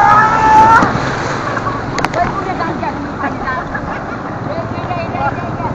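Surf surges onto the beach at Cox's Bazar in a broad, rushing wash with wind buffeting the microphone, while a person talks over the roar.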